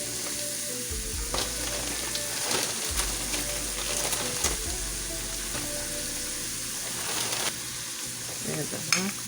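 Frozen broccoli frying in a hot pan, giving a steady close sizzle with crackles and several low scraping thumps from stirring.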